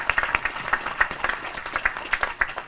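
An audience at a ribbon-cutting ceremony claps in a round of applause, a dense spatter of many hands beating unevenly at a steady level for a few seconds, with no talking over it.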